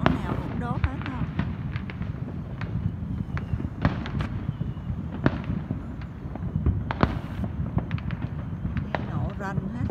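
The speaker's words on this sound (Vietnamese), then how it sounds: "Nổ rần hết." Dense fireworks bursting across a night sky in an American Fourth of July-style display, with many sharp cracks and pops overlapping in a continuous loud barrage while people talk underneath.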